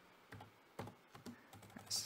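A handful of quiet, separate key presses on a computer keyboard, close and soft, with a slightly louder clack at the end.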